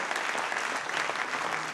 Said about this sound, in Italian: E perché un applauso a sto sindaco?